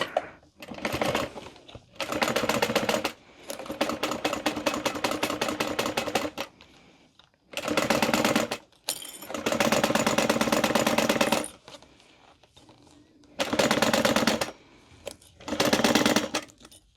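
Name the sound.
sewing machine stitching a handbag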